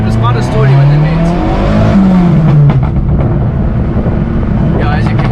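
A loud turbocharged, modified VW Caddy revs hard, its engine note climbing and falling with pops and turbo spool, heard close with tire noise and people talking over it.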